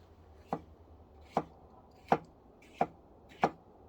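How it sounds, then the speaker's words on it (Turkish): A sharp Masat knife slices through a tomato on a cutting board, five crisp separate cuts spaced about a second apart, close and clear over a quiet background. "Domatesimizi doğruyoruz."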